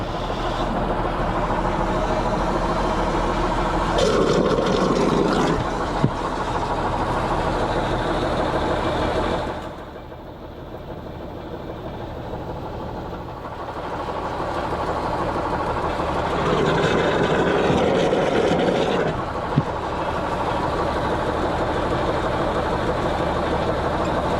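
A tractor pulls a sprayer applying Acanto Plus fungicide to a wheat field, its engine droning steadily and loudly, with a brief dip in level midway before the rumble returns.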